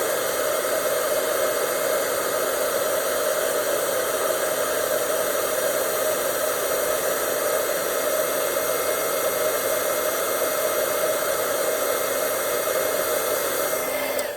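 A heat tool blows hot air at close range for copper embossing, a loud, even whooshing hiss with a steady whine that holds unbroken from start to finish.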